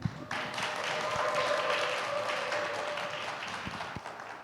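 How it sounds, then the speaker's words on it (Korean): Audience applause welcoming a doctor to the stage at a natural healing society workshop, steady, moderately distant clapping lasting several seconds, with a couple of thuds near the end. "큰 박수로 맞이해 주시기 바랍니다."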